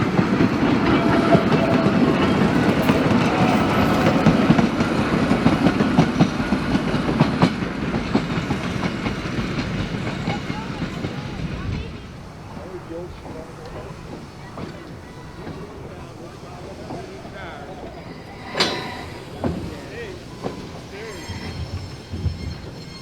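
A steam train at the Illinois Railway Museum passes close by with loud rumbling and clickety-clack wheels, then fades into the distance, followed by a brief wheel squeal.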